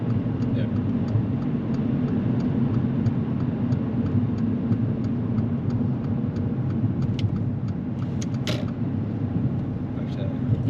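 A car labouring at too low a speed in third gear during a driving lesson, a steady low engine drone that runs throughout, with voices heard over it.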